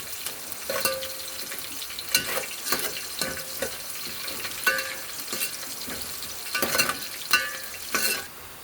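Peanuts frying in oil toward golden brown, stirred with a spoon that scrapes and clinks at irregular intervals over a continuous close sizzle, with no talk, ending quietly.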